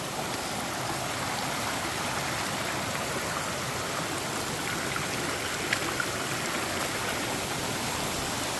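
A cold stream on the Pacific Northwest Trail rushes in a steady, close wash of flowing water that stays even and unbroken throughout, with no voices over it.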